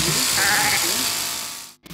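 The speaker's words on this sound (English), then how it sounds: "he takes on the challenge of shearing a sheep" A sheep bleats during farm shearing, a couple of close, wavering cries over a steady buzzing hum like electric clippers, ending with a brief cut of near silence.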